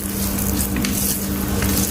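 Curry being stirred in a frying pan, a continuous close sizzle with soft scraping and squishing of the spoon through the thick mixture, steady and unbroken for the short stretch, no talk.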